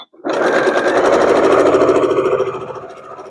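A sewing machine runs a continuous stitching burst along fabric basket handles, starting abruptly and whirring at a steady, close, loud pace for about two seconds before winding down.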